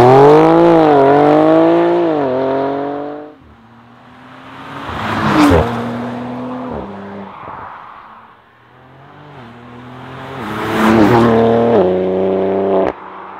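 A BMW G80 M3 Competition xDrive or Audi RS4 Avant launches hard off the line, engine revving up through rising gear pulls with shift breaks, loud and close, repeated twice with quieter intervals.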